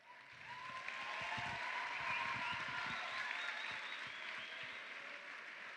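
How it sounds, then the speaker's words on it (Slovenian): Large audience of about 1800 at a school concert gives steady, sustained applause that swells slightly and holds, heard from a distance, with no talk. "pa predlagam en spodbudni aplavz."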